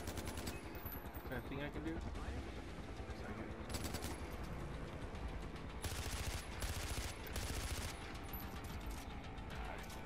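Gunfire in Far Cry 4 rattles in rapid automatic bursts with louder volleys breaking through, while someone talks over the shooting.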